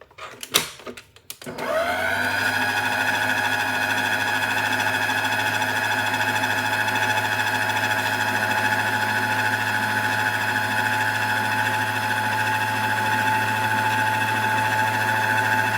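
An electric stand mixer on its lowest speed beating chocolate chip desiccated coconut brownie batter, starting with a few clunks and then settling into a steady, loud motor whir with a bright mechanical hum that continues unchanged.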